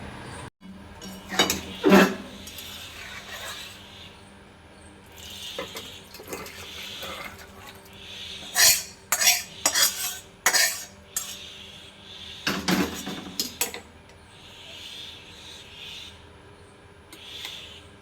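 Metal utensils clink and scrape against pots while fish curry is poured out in a home kitchen, with scattered bursts of clattering and a few quiet pauses between them.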